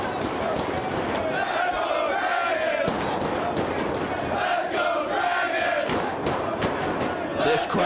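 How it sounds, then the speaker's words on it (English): Wrestling crowd at a Ring of Honor event, roaring and chanting steadily throughout with dense, continuous noise and scattered sharp shouts, loud and close. "This crowd split between Danielson and Gibson"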